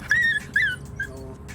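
Shy, unsocialised dogs let out a few short, high whimpers and whines close by, in quick succession over a low background.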